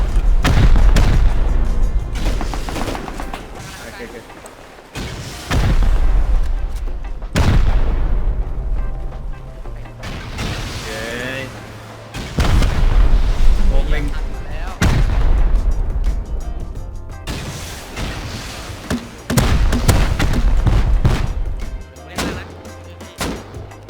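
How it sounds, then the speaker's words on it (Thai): Rust combat, with heavy booming gunfire and explosive blasts arriving in loud repeated bursts over about twenty seconds, separated by short quieter gaps, with someone speaking at times. "ยิงละ เฮ้ยมันยิงบ้าเลยว่ะ"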